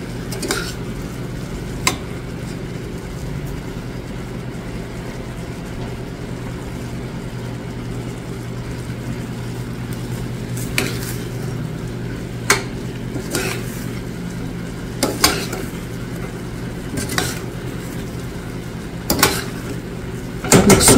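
Black rice being stirred in a pan with garlic and onion powder, a steady scraping and clinking of a utensil against the pan with occasional sharper knocks over a constant low hum.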